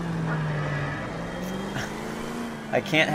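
Engine of a car in a video game drone and rise as it is driven recklessly, a steady tone climbing in pitch, with a few short knocks near the end and game sounds mixed in.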